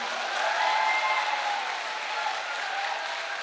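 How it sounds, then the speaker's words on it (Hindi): An audience in a hall at a health awareness program applauds in a steady, moderately distant wash of clapping that holds evenly for several seconds. "और इसके लिए तो ताली बजा दो।"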